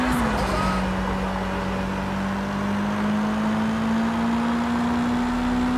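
A car in the video game Sleeping Dogs driving at speed: a loud, steady engine drone whose pitch dips slightly and then climbs gradually, with no pause.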